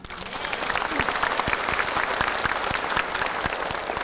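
A room full of people applauding, dense steady clapping that holds at an even, fairly loud level for the whole stretch.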